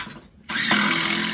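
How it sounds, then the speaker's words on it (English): A drill whirs steadily as it drives a screw into a subfloor joist, starting abruptly after a brief near-silent pause and running loud and continuous to the end. "I'm gonna put 2 or 3 screws into the face of it"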